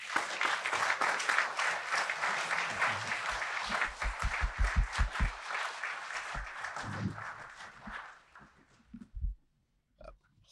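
Audience applause welcoming Dr. John Kleinig at a lecture on Hermann Sasse: a dense burst of clapping that thins out and fades, followed by brief quiet and a few faint sounds.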